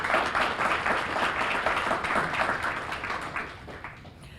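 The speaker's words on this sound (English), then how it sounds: "So please give them another round of applause." Another round of applause fills a community kick-off gathering, dense and even clapping from the audience that slowly tapers in the final second.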